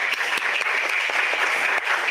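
Steady audience applause at a Folkcom 2025 lecture, a dense, continuous patter of many hands filling the room at an even level throughout, with no voices heard.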